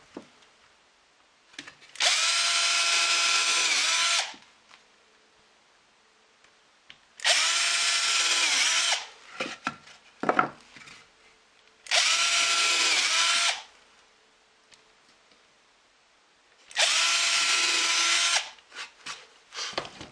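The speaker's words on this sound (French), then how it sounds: "Voilà 4 trous percés que vous verrez mieux tout à l'heure." Electric drill boring holes into a wooden storage box, four separate loud bursts of steady high whine, each about two seconds long, with quiet handling clatter in between.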